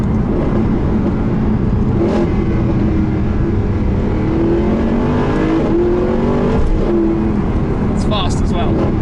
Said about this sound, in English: open the window for the downshifts